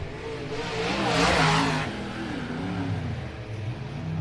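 A race car of the XR Series support class at Mountain View Raceway accelerates down the back stretch, its engine rising and swelling loudly as it passes close by, then settling into a sustained droning whine.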